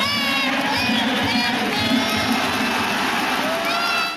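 Japanese baseball fans cheer and shout together in a stadium crowd, a dense continuous roar with higher voices rising through it, steady and loud for the whole stretch.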